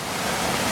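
Floodwater from the swollen Indian Springs Creek cascades in a steady, dense roar of rushing water, broadband and continuous throughout with no distinct breaks.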